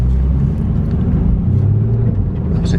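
A Porsche car is driven at the Porsche Experience Centre Silverstone, heard from inside as a loud, continuous low engine rumble and road drone with slight rises in pitch.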